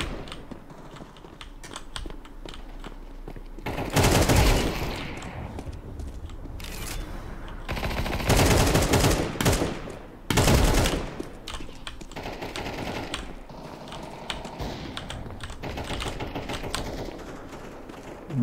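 Weapon fire in the video game Counter-Strike 2, heard as several bursts of loud rapid gunshots separated by quieter stretches with clicking keyboard and mouse sounds, no talk.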